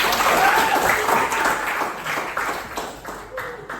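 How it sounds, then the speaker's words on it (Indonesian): Group applause fills a classroom during a teacher-training session in Samarinda, steady and fairly loud for nearly four seconds before tapering slightly, with a faint voice underneath. "Oke, tepuk tangan"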